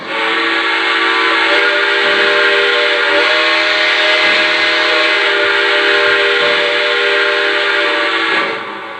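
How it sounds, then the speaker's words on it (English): Lionel Legacy Milwaukee Road S-3 model steam locomotive sounding a sustained whistle, a steady multi-tone blast lasting about eight seconds at close range before cutting off. "Here's the first whistle."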